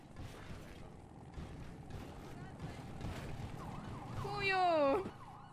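A police siren wails up close and loud toward the end, its sweeping tone rising over a steady background murmur and faint voices.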